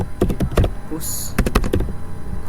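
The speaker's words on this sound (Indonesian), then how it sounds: "Kita mengetik git tag dulu." Rapid clattering keystrokes on a computer keyboard as a git command is entered, close and steady, with talking in the room.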